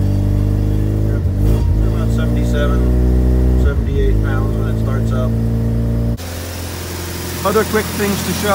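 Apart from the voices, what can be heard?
rotary engine pickup truck starting and revving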